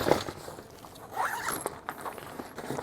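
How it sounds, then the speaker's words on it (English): A zipper on a Step 22 Gear Pangolin tool roll being drawn open in a couple of close, scratchy pulls, with light rustling of fabric in between. "if we open it back up again, I noticed a zipper that I hadn't seen before"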